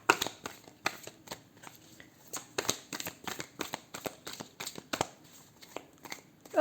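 Oracle cards are shuffled and handled close by, giving a rapid run of crisp riffling snaps and flicks in uneven bursts, with no talking.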